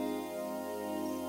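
Synth patch run through a double notch filter, giving a breathy, choir-like vocal tone; a dense sustained chord holds evenly and loud through the whole short excerpt with no voices present.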